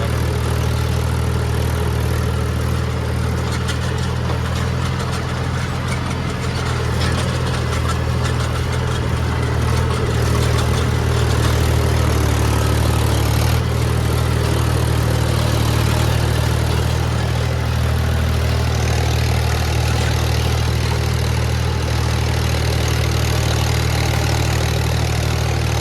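A tractor engine runs steadily for the whole stretch, a loud, constant low idle-like drone with no breaks, heard near and alone with no talking.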